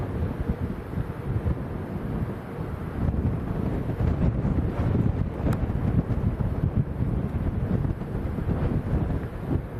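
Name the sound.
strong crosswind blowing at Lanzarote airport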